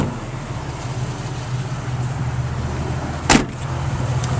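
Power window in a 2005 Ford Ranger pickup gives a short motor whir near the end, heard over a steady low cabin rumble.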